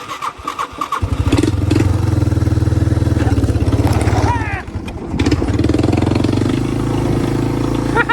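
A Yamaha YTM200 three-wheeler cranks over with a brief starter whir, then catches and settles into a loud, close, steady idle, dipping for a moment before running on evenly; no talking.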